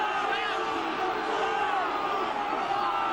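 A rugby crowd at a 1989–90 Gloucester match roars and cheers continuously as the Cherry and Whites drive forward, with a commentator's voice running over the noise.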